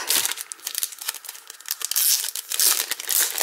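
Craft papers from an unboxing being handled, close, loud crinkling and rustling in irregular bursts with brief tearing-like crackles, no talk.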